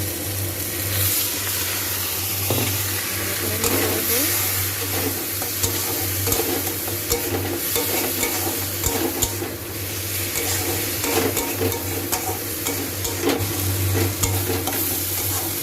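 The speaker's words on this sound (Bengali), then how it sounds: "দেখুন মশলাটা আমার ভাজা ভাজা হয়ে গেছে।" A spice paste of turmeric and chili with a splash of water sizzles and fries steadily in a pan, close and continuous with occasional stirring scrapes, no talking.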